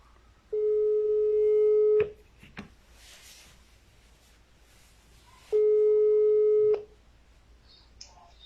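Two long, steady telephone line tones, each about a second and a half, sound loud and close with a quiet gap and a few soft handset clicks between them as a call is hung up and redialed.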